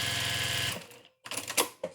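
Sewing machine stitching a nose wire into a pleated fabric face mask, running in a loud steady whir for under a second, then stopping, followed by a few brief handling clicks and rustles.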